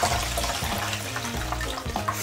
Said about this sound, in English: it looks like it's pretty much finishing up draining out